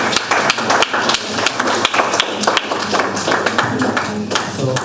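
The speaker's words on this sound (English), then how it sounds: "let's give a round of applause to yourself for attending" Investing-class attendees applaud at a finance event, a steady patter of many hands clapping indoors throughout, with crowd noise mixed in.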